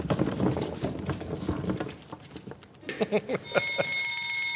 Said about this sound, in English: When you hear the hammer alarm, you know what that means.